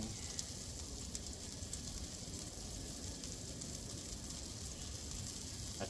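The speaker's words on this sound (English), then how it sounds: "I turned the heat up a little bit for this, just so they're giving a nice sear." Ribeye and NY strip steaks sear on a hot Blackstone griddle, a steady close sizzle and crackle with no talking.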